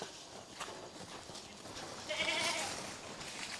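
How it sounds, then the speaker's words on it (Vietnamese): A goat bleats outdoors in a rural Vietnamese setting, a faint wavering cry rising over a steady hiss of background noise. "Ôi con dê của chị ra rồi đây này."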